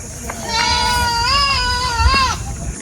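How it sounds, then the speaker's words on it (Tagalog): A single long, wavering goat bleat rings out loud and close, held for about two seconds over low background noise. "Paingay po yung kambing mga kababayan."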